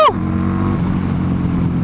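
A Harley-Davidson V-Rod motorcycle pulls away in first gear, its engine note climbing in a short, loud burst before settling into a steady close-up drone, with no voices.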